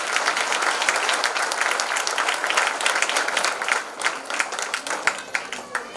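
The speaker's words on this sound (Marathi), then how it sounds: "या सर्व विद्यार्थ्यांचं जोरदार टाळ्या वाजवून आपण कौतुक करूया." Audience at a kindergarten annual gathering giving loud, sustained applause for a class of young students, steady dense clapping that thins into scattered claps near the end.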